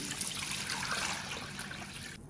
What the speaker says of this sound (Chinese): 然后再加入适量的清水